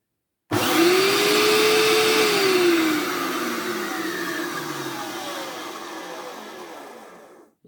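Canary yellow Hoover Turbopower 2 vacuum cleaner motor, suspected of dry bearings, starts abruptly with a rising whine that settles into a loud steady roar, then gradually sags and winds down before cutting off.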